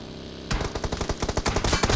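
Rapid 9mm SMG fire in the PUBG Mobile battle royale game: after a brief steady background hum, a tight burst of sharp, closely spaced shots rattles out loudly and continues to the end.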